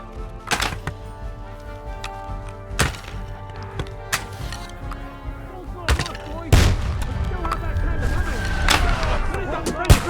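Sharp cracks of gunfire ring out in Kingdom Come: Deliverance II, several loud isolated shots spaced a second or two apart, with wooden knocks and battle noise between them and voices in the background.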